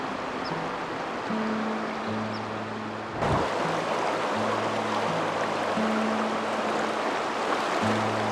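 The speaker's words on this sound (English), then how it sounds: "Ah, the sound of the river sure can be quite tranquil." The Verde River in the Southwest flows as a steady, even rush of water close by, with faint low tonal hums running underneath.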